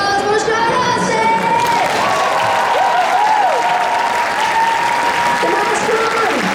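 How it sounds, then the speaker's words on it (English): A large crowd at a Sean Astin Q&A at Comic Film & Manga Fest, Rotterdam Ahoy, applauds loudly and continuously, with cheers and whoops rising above the clapping and voices calling out amid the noise. "And guys, I need a big round of applause for Sean Astin!"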